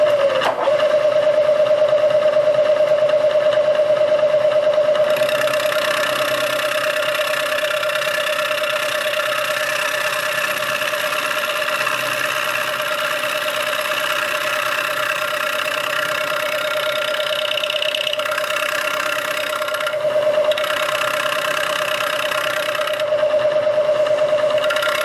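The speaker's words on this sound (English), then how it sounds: "we do it with a two-fluid end mill because it's cast iron" A two-flute end mill notches a cast iron engine block for 74 mm stroker crankshaft clearance, giving a steady, loud, continuous machining whine with a sustained tone throughout, close and without talk.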